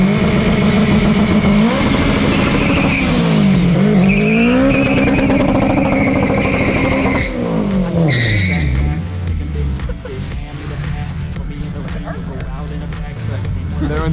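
A Honda EG hatchback launches with a loud, revving engine that climbs and falls through several pulls before the drivetrain gives out, the note sagging into rougher, lower running; voices talk faintly around it.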